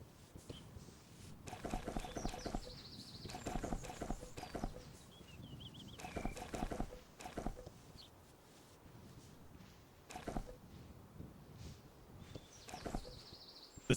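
Hooves clip-clop softly from a horse in the video game Horse Tales: Emerald Valley Ranch. The quick, faint taps come in bursts, and a few short game chimes sound among them.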